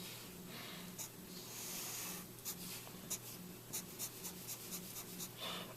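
Pen scratching across paper while drawing a scaffolding diagram for a physics force problem: close, dry strokes in short irregular bursts with brief pauses, no voices.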